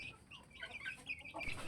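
Young chicks on a poultry farm cluck and peep softly, a scattered, close chatter of small calls with low background noise.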